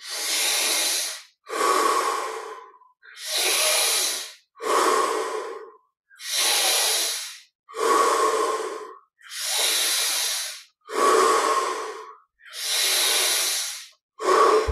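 Deep meditative breaths alternate in and out in slow, regular cycles of about one and a half seconds each, close and loud, airy and hissing through the nose and mouth, with short silences between and no talk.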